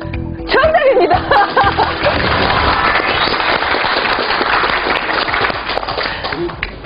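Studio audience applause on a Korean TV quiz show, a loud, steady burst of clapping mixed with some laughter and a speaking voice near the start.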